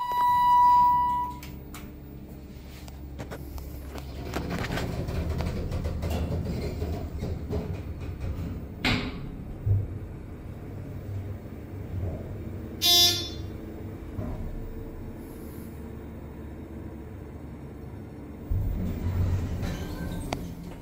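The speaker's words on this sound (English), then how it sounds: "first lift is a Tizenkrupp Aurora lift with violent starts and stops." Thyssenkrupp Aurora lift ride with violent starts and stops: a low rumbling hum of the moving car with thumps and jolts, a brief chime at the start and a sharp clanking burst midway.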